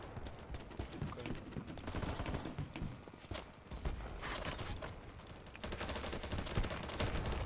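Rapid gunfire bursts and scattered shots from the video game BattleBit, with a distant sniper among them, sound as a dense, loud volley of cracks running continuously with brief lulls.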